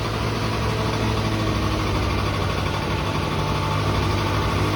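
A cold Honda Dio AF27 scooter engine runs at a raised idle, a steady, loud, close mechanical drone with low rumble and no breaks or voices.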